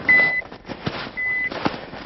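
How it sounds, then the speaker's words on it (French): An avalanche transceiver gives two short, shrill electronic beeps about a second apart, clear over a faint background of rustling and soft knocks. "En cas d'avalanche, l'ARVA est l'outil le plus efficace pour retrouver un corps caché sous la neige."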